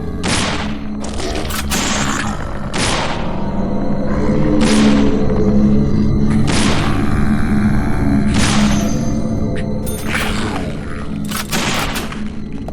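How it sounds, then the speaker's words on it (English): Repeated explosions of barrels in the video game Deadly Premonition, a series of loud booming blasts with sharp crackling attacks roughly every two seconds over a continuous low rumbling background. "Somehow that exploding barrel did less damage."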